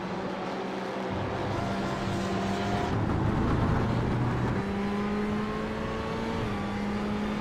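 Onboard engine of a Ferrari GTE race car in a sim racing game at Sebring, a loud, steady roar that climbs through the revs, drops at gear shifts and climbs again, heard alone.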